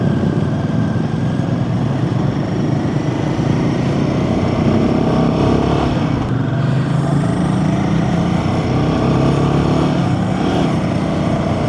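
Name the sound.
Royal Enfield Himalayan 450 motorcycle riding in 4th gear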